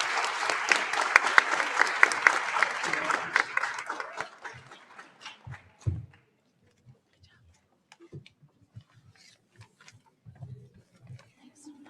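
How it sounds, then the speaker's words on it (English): Audience applause for conference panelists at an international law event on the status of women, dense clapping at first that thins to a few scattered claps within about four seconds, followed by shuffling and faint talk. "join me in a very warm round of applause for our spectacular panelists."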